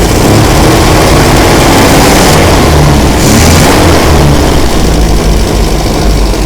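A 1974 MGB GT car engine idles loudly and roughly close by while cold, its exhaust sputtering with uneven pops over a steady low rumble.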